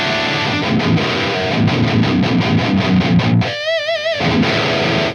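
Seven-string electric guitar played through a Toneforge Disruptor distortion plugin: dense, heavily distorted chugging riffs with rhythmic palm-muted stabs, then a brief warbling, sweeping effect before the heavy riffing returns, loud and continuous.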